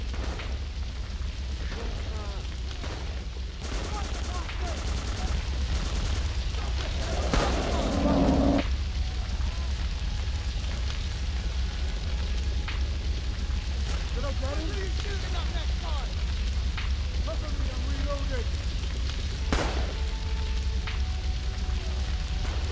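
Gunfire crackles through a World War-era shooter battle, with a dense burst of rapid shots near the middle and scattered pops elsewhere over a steady rumbling game backdrop, while players talk over the action.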